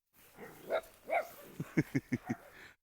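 Cane Corso puppies give a few soft whining yelps, then a quick run of five sharp, close barks in steady succession.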